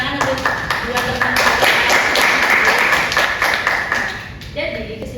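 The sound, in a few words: classroom applause for two students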